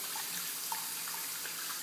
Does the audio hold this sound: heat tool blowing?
no